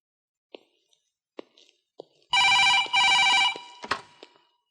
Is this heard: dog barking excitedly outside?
no